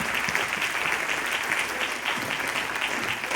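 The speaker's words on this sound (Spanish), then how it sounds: "¿Cuánto da una ofrenda de palmas al Señor" Congregation applause at a church conference on Christian women's veiling, a dense, steady wash of many hands clapping together at close range for the whole stretch, with no talk.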